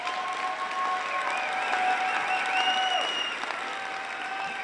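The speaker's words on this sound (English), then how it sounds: "One more round of applause before we do one final act." Audience at a high school equivalency graduation ceremony gives a sustained round of applause, steady and full throughout, with scattered whistles and cheers rising above the clapping.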